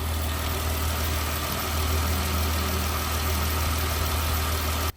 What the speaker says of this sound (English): Leave you here with the engine sound.